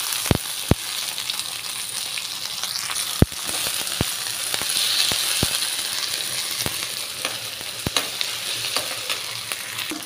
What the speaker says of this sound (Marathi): आता आपण याच्यामध्ये टमाटो टाकणार आहे